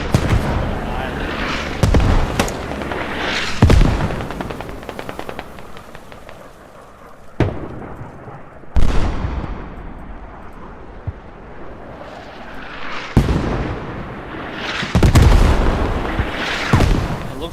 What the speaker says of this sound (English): Looks like mortars are trying to strike